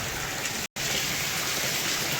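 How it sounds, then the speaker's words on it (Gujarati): Steady heavy rain pours down outdoors as a dense, even hiss of falling water, loud and constant with one brief cut in the sound, and no voices. "વરસાદ ચાલુ છે."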